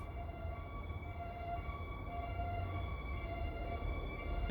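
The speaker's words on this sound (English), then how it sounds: "It's a very old sounding siren." An old-sounding siren wails faintly in the distance, a steady held tone drifting over a low background rumble, with no voices.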